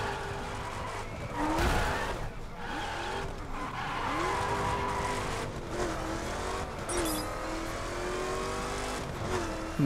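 A car drives along a mountain road in the racing video game The Crew, its engine revving steadily while tires squeal and skid through repeated corners. The sound is loud and constant, without speech.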